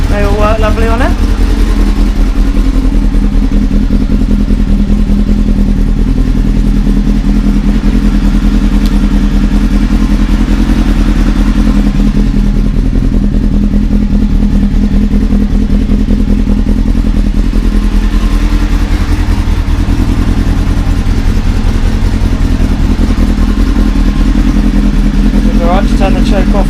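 A 2001 Honda Hornet CB600F motorcycle engine idles steadily after a cold start, a continuous close, loud mid-range running note with slight swells, as if given light revs, throughout.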